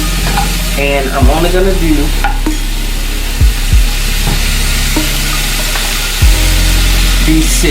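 Breakfast sausage patties sizzle steadily in a pan, a loud continuous hiss broken by a few thuds and scrapes as they are moved, with a person talking briefly over it.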